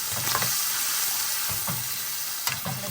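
Tomatoes, green chilies and curry leaves frying in a pan with cumin and turmeric, a constant close sizzle broken by a few scraping stirs of a spoon.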